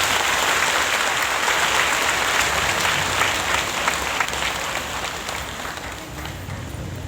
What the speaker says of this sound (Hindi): सभी साधक साधिकाएं एक दूसरे के उत्साहवर्धन में तालियों में लगे।